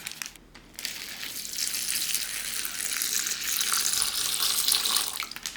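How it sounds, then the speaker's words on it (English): Red liquid pours into a Ziploc bag as a steady, hissing gush of splashing fluid that starts abruptly and keeps flowing, close and fairly loud with no talking. "Now we're gonna pour this inside the Ziploc bag."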